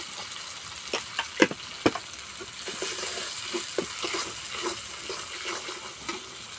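Spices being fried down in a pan with a splash of water for egg pulao, giving a steady low sizzle with a few sharper crackles and stirring scrapes early on, close and alone.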